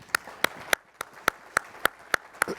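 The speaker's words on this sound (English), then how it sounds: "Joe Simon, please, round of applause" Audience claps in a sparse, rhythmic way to welcome a guest named Joe Simon onto the stage of a late-night-style talk show. There are about ten sharp, evenly spaced claps, fairly close and distinct, with no talking.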